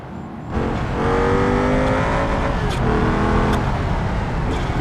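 A race car in BeamNG.drive climbs a tarmac hill course, its engine roaring loud and steady at high revs after a quiet start, with gear shifts and a commentator's voice over it.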